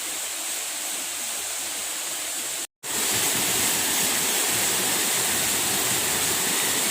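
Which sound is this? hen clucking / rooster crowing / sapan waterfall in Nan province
sapan waterfall in Nan province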